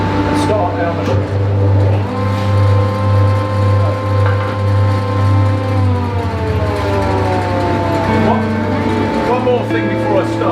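Wood planer machine with dust extraction running, a constant loud mechanical hum with a droning low tone and shifting whine throughout, while someone talks over it.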